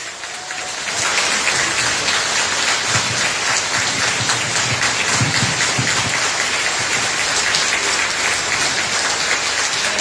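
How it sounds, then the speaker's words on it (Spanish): Warm, steady audience applause for a speaker at a talk, starting after a brief moment and holding dense and even for about nine seconds, with no one speaking over it. "un fuerte aplauso para Juanjo."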